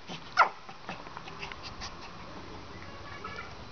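A dog gives a short, sharp yip or whimper early on, then a few fainter small vocal sounds over a quiet indoor background with no talking.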